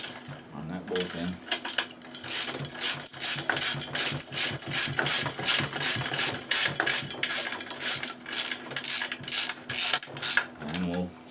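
Ratchet tightening a bolt on a jet boat part for a Yamaha jet boat, fast continuous clicking strokes in close, steady bursts, with a brief voice at the start and end.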